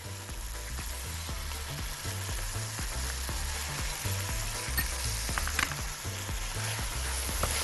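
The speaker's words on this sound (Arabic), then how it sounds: "نشوح البهارات مع الفول مع الكزبرة" Fava beans with spices, salt, pepper and fresh green coriander sauté in a pan, a steady close sizzle with rhythmic scraping of a stirring spoon throughout and no talk.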